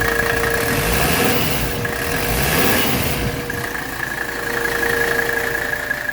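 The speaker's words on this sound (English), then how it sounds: "this engine is incredibly smooth" A 1985 Mercedes 300CD engine idling steadily, a smooth continuous hum with a faint whine on top, close and fairly loud with no talking.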